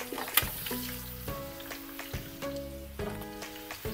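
Pork trotters sauté in a pan for nilagang pata, giving a steady close sizzle and crackle throughout, with tonal background music running over it and no talking.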